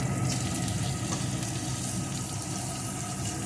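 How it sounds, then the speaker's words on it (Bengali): Carrot pieces fry with onion in a pan, giving a steady, dense hiss and crackle that stays even and fairly loud throughout, with no one talking. "গাজরটাও একটু ভেজে নেব"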